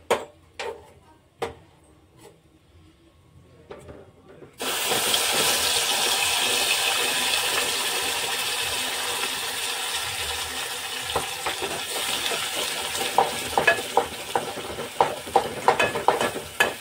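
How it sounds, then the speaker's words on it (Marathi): Vatan spice paste for Kolhapuri chicken curry hits hot oil after a quiet moment, bursting into a loud, steady sizzle that carries on with scattered stirring clicks and scrapes. "तर यामध्ये आपण आता हे वाटण टाकणार आहोत तेलात."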